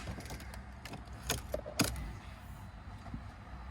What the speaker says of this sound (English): And put the keys in.